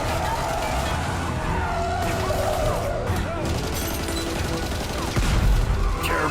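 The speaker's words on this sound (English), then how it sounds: "Tommy guns." Rapid tommy gun bursts in an animated Batman cartoon, dense loud gunfire mixed with car and crash effects over an action score, with a louder burst near the end.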